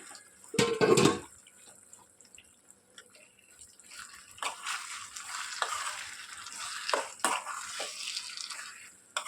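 Mango paste, coarsely ground from sweet raw mango for a pickle, stirred and fried in a pan, with a loud clatter near the start followed by steady soft sizzling and scraping under occasional utensil knocks.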